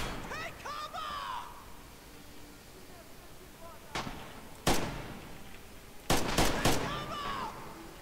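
Grenade blasts and gunfire in the World War II shooter game Red Orchestra 2: sharp loud bangs around four to five seconds and a cluster of bursts near six to seven seconds, with a voice speaking at the start.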